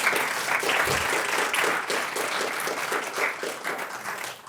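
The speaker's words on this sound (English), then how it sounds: "I just want to give a quick round of applause for Josh." A workshop audience at a short-film pre-production event gives a sustained round of dense applause, steady and fairly loud throughout, with no talking over it.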